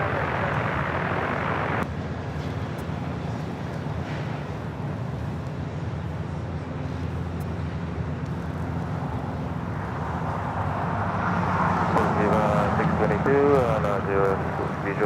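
A jet airliner's engines roar steadily during takeoff at LAX, a broad, sustained rumble that swells louder toward the end, with tower radio chatter audible underneath.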